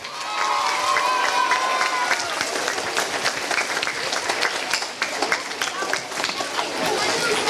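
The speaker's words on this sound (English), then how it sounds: "Let's give a clap for Lynlee and Elijah being soloists today" An audience at an elementary school Veteran's Day performance claps and cheers for two third-grade child soloists, a sustained, dense wash of applause with crowd chatter mixed in throughout.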